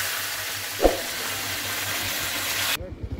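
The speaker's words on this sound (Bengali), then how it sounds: "এই দেখো এখন মাছের মাথা ভাজা হচ্ছে" A fish head fries in hot oil on a clay stove in a village kitchen. A steady, close hiss of sizzling runs with a single stirring clack partway through, then breaks off abruptly near the end.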